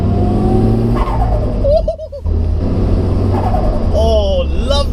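Nissan S14 turbo engine revs up and falls back close by, with a brief whoosh between pulls and a rising rev near the end, under steady talk.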